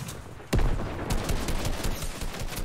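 Gunfire from a weapon in the video game Fortnite: one sharp close shot followed by a dense, sustained rattle of further firing and echoing impacts.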